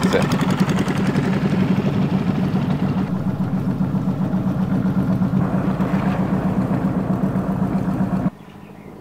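A motorboat engine on Inle Lake, Myanmar, drones loud and close in a steady, even run, then cuts off abruptly just before the end, leaving quieter background.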